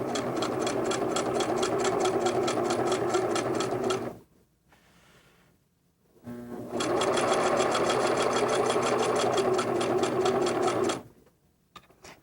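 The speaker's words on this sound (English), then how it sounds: "Place your quilt back under the sewing machine and stitch along the white chalk line" A sewing machine stitches a quilt along a chalk line in steady, rapid bursts, running loudly for about four seconds, pausing briefly, then running again before stopping.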